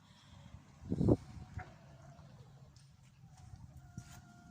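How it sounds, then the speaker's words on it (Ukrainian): Hens cluck softly in a muddy farmyard, with one louder squawk early on and then scattered faint clucks and bird calls over a low background murmur. "Ось курочки."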